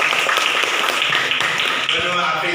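In a classroom, a dense, continuous patter of group clapping fills the room, steady and fairly loud, mixed with overlapping voices.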